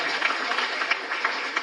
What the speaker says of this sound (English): Let's give Graham one more round of applause right here